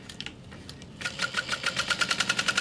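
Sewing machine stitching around the outer edge of a fabric overlay, a brief soft start then a steady rapid mechanical rattle that speeds up into even pulsing beats, close and fairly loud.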